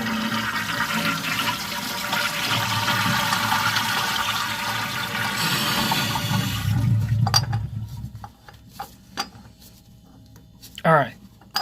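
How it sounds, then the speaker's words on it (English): A flushometer toilet flushes with a loud, steady rush of water for several seconds, then cuts off, followed by scattered clanks and a brief squeak from the fixture. "Give her a good flush."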